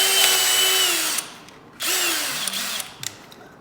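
A power drill backs a bolt out of a motorcycle swingarm guard, its motor whining steadily for over a second, pausing, then running again in shorter bursts that drop in pitch, close and loud with no talk.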